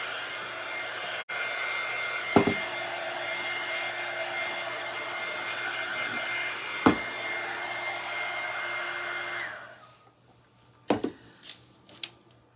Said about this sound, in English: I'm going to go ahead and use my heat gun. Kind of blow this stuff away.